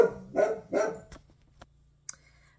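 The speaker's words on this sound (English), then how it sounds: "Willow is barking at something" A dog barks three times in quick succession, close and fairly loud, followed by a few faint knocks and a brief high squeak in a quiet room.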